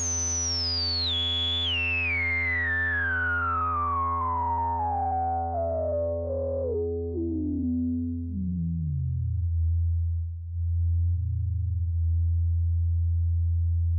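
A low synth tone from a Moog Mother-32 or the Broken Mini plugin sweeps steadily down in pitch from a high whine into a deep, loud, sustained bass drone, heard alone.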